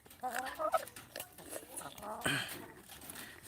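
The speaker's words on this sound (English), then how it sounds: "They're absolutely bonkers, these chickens." Hens in a backyard garden flock cluck and squawk excitedly in uneven bursts, close by and mixed with a person's voice.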